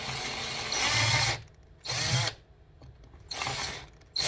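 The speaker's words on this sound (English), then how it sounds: "So I'll start smaller with a bit and work my way up." A drill bores into a small wooden fishing lure in three short bursts of whirring with quiet pauses between them, close and moderately loud.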